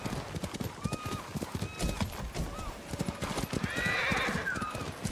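Hooves clip-clop steadily and a horse whinnies near the end in the video game Ghost of Tsushima, the hoofbeats close and rhythmic under a dense ambient background.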